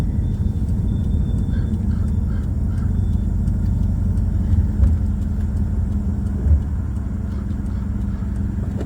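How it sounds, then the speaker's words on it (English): A camper van drives along a city road in Palm Desert, California, giving a steady low engine and road rumble from inside the cabin with small bumps and no talk. "We go for ride, Tashi."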